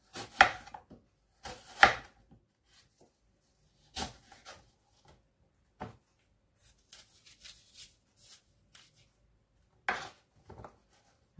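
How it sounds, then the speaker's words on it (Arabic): Fruit for a fruit cocktail is chopped on a board with a knife, giving irregular sharp knocks and clicks, some in quick pairs and others isolated, close and clear against near silence. "نقطع كل حاجة مع بعضها"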